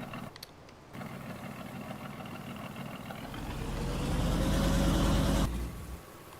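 A vehicle engine idles in the farming game Farming Simulator 19, a steady low mechanical drone that swells louder and rumbles deeper partway through, then drops back, with no talking.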